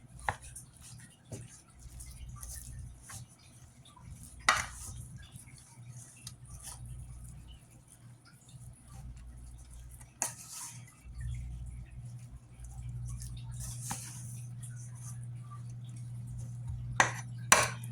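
Hamburger meat being mixed with all-purpose flour by hand makes soft, quiet squelching and patting sounds with a few sharper knocks and clicks against the bowl, close and faint, no talking.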